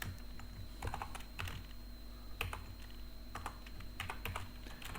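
Computer keyboard typing while writing code, a run of irregular, fairly close keystrokes with small clustered bursts over a steady low background hum.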